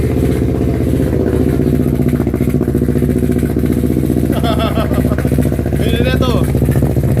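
A Yamaha R25 motorcycle engine runs with a ball stuck in the exhaust, giving a loud, close, steady rumbling idle with a rapid throbbing pulse, while voices talk over it.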